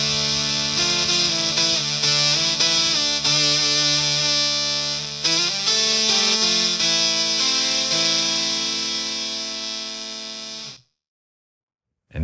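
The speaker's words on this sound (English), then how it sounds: "This is the initial sound. No effect, just one oscillator." Boss SY-300 guitar synthesizer played with a single oscillator and no effect: a bright, buzzy synth tone over a run of plucked guitar notes and chords, loud and steady for about eleven seconds before stopping abruptly into silence.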